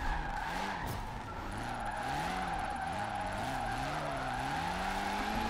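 A rear-wheel-drive Evo 6 drifting downhill through a tight section in a racing video game, the engine note rising and falling through gear changes while tires squeal and skid continuously, loud and up close with no talking.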